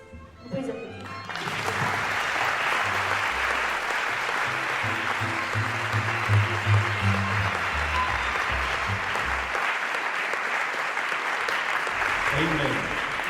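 Audience applause swells up after a brief opening and holds as a dense, even wash of clapping, while a low voice talks over it through the middle before the sound settles again near the end.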